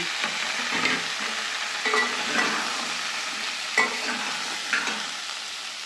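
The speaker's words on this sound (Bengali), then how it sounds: "সবজিগুলো ভেজে নিয়েছি এই পর্যায়ে ডাটাগুলো দিয়ে দিলাম" Vegetable stalks frying in oil in a wok alongside other mixed vegetables, a steady sizzle broken by periodic scraping stirs of a spatula against the pan.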